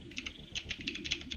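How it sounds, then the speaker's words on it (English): Computer keyboard typing picked up on a livestream microphone, a quick run of light, irregular key clicks, fairly close and moderately quiet, with no talking. "we can hear your keyboard typing though in the stream"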